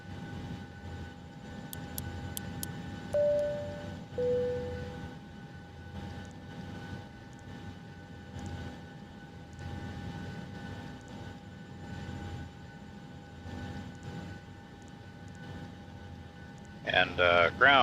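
Airliner engines droning steadily from inside the cabin during pushback and start on a Krakow to Birmingham flight, a low continuous hum and whine under announcements and cockpit talk, with cabin chimes.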